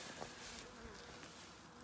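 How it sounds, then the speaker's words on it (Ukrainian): Honeybees fly around their hives on a mild winter evening before Epiphany, giving a steady, faint buzzing hum that runs through the whole stretch with no voices. "на Щедрий вечір перед Йорданією бджоли літають"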